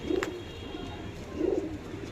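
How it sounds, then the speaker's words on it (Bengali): Male pigeons offered for sale coo twice in low, rounded calls that are close and fairly quiet, over soft background noise. "খুব ভালো কোয়ালিটির পায়রা"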